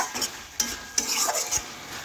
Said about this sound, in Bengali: এ দেখুন আবারও ভালোভাবে একটু ভেজে নিচ্ছি